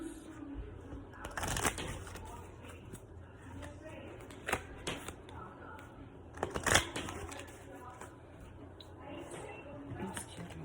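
Energy oracle cards being shuffled by hand, a soft papery riffle with a few sharper snaps and flutters, close and moderately quiet, with faint background room noise throughout.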